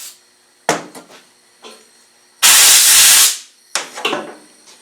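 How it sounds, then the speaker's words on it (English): Brake cleaner blasts from an aerosol can onto a clutch slave cylinder spring in a loud, close hiss lasting about a second, framed by metallic clinks and handling knocks. "Put a brake cleaner on the spring."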